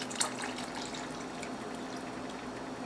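Chicken broth being poured into a pot of homemade chili, a steady close trickle and splash of liquid running continuously with no talking.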